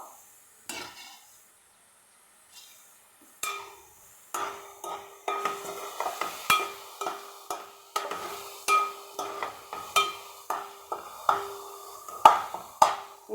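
Dried onions and fish pieces frying in hot oil in a home kitchen, with a steady soft sizzle under a series of sharp metallic clinks of a spoon stirring against the pan, growing busier and more regular toward the end.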